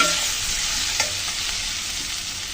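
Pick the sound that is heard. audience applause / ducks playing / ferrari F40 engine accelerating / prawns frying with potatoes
prawns frying with potatoes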